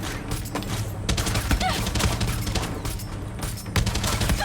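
Sustained gunfire in the video game Far Cry 6, aimed at an air-support pilot: dense, overlapping bursts of automatic shots, loud and continuous for several seconds.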